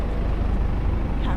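A bus pulls in at a stop in Airlie Beach in the Whitsundays, giving a close, loud, continuous engine rumble with a brief hiss near the end.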